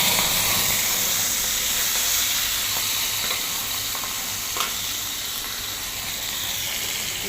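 Chili seeds frying in hot oil in a pan, a steady close sizzle and hiss that runs unbroken, with faint scraping as they are stirred and no talk.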